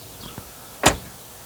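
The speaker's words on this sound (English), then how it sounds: "check out of how the door sounds when it's closing" A 2019 Honda Pilot Touring door swings shut with one solid thud, close and fairly loud, after a couple of faint latch clicks.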